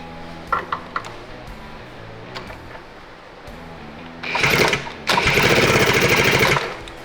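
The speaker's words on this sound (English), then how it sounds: "We got sparks. Sparks are flying" Ignition sparks snap on a 1972 John Deere 400 snowmobile: a few light taps, then two loud bursts of rapid buzzing crackle, close by.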